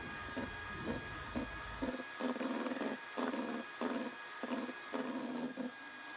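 Electric hand mixer beating egg yolk batter with butter or margarin for a layered cake, a faint buzzing motor whirring in repeated short bursts with brief pauses between, close and steady; no talk.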